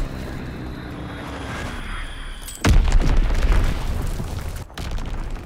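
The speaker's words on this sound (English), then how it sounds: "Enemy bomb incoming." A sudden heavy bomb blast in Call of Duty WWII booms close and loud after a low aircraft drone, its rumble lingering for a couple of seconds before a second thud.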